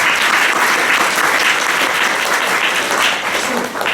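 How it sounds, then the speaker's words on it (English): Sustained applause from a conference audience for a panel of speakers, dense and steady clapping filling the room for the full stretch, easing slightly near the end. "Give the audience, give the speakers a round of applause"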